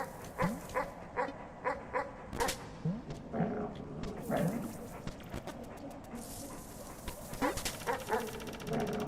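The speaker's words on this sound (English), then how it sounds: "I think it's just the dog, right?" A dog in the video game Animal Well barks in a run of short, evenly spaced yips, then gives a few whimpering calls. The barks are faint and close, set against low background sound, and more barks come near the end.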